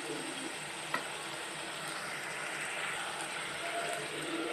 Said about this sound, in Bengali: এখন আমি চুলার আঁচটা মিডিয়ামে রেখে কাঁঠালের বিচিগুলো 3 থেকে 4 মিনিটের মতো ভালো করে কষিয়ে নিব।